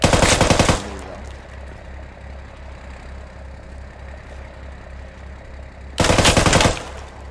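A machine gun in the military shooter Squad fires two loud, rapid bursts, one at the start and one near the end, with a steady low vehicle-like rumble between them.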